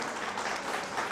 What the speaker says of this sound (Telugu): అందరికీ కూడా ఒకసారి గట్టిగా క్లాప్స్ కొట్టాలండి